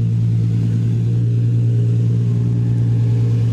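A car cruising without its front bumper gives a steady, loud low engine and road drone, continuous for the whole stretch with no voices.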